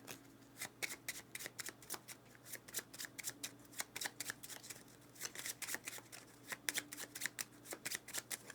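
A deck of Mage Knight deed cards being shuffled by hand at a tabletop game, a long series of crisp riffling bursts and taps repeating steadily at close range with no talk.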